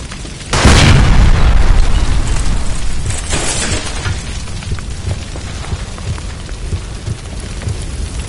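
A gas line bursts in L.A. Noire with a sudden heavy boom, followed by a long roaring rumble that fades slowly into a sustained crackling wash.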